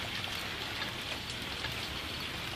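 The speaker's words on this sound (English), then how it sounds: "And we have our garbage can that's getting soaked wet." Rain falls steadily outdoors onto a garbage can, a constant soft hiss of drops pattering on surfaces with no breaks, fairly quiet and close.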